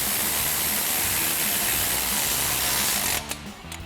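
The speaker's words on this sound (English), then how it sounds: "then we'll tighten that down using our 10mm socket on our ratchet" A ratchet fitted with a 10mm socket tightens a brake line bracket bolt during a Jeep Wrangler JK suspension lift install, a steady close mechanical clicking that runs continuously and then stops abruptly near the end, with no talking.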